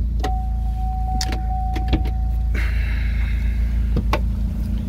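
Rebuilt Opel A20NFT turbo petrol engine idling without load through a catless downpipe, a steady low rumble with a few brief clicks and a faint whine partway through.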